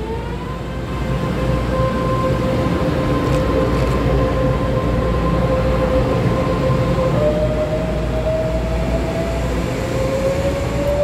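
EMU518 and EMU507 electric multiple units forming a local express train departing Su'ao station on the Yilan line, a loud steady rumble with rising tonal motor whine, close and continuous throughout.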